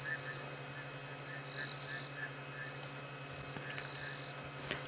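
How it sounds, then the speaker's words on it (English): Frogs call at night on a safari drive, a steady chorus of short repeated croaks and chirps over a constant low hum, fairly faint and distant with insects mixed in. "let's leave these frogs then, because I think they've had enough of us watching them"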